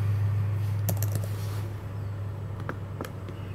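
Several quick keystrokes on a computer keyboard while a stock order is entered, in short bursts with pauses, against a steady low hum.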